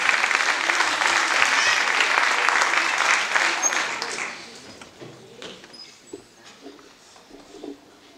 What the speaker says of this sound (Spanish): Un aplauso para Martina.